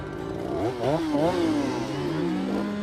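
A chainsaw cuts into a large cottonwood tree outdoors, its engine buzzing loud and close, then revving up and down in pitch through the cut before settling into a steady drone.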